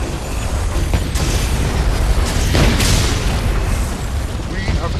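Booming fire spell explosions in the Dragon's Dogma video game, fought against liches and undead in a chamber, sound as dense rumbling blasts with a sharper burst near the middle, loud and continuous over game effects.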